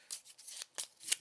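Playing cards are shuffled during a board game session, a quiet, close riffling and rustling in a few quick bursts lasting about a second.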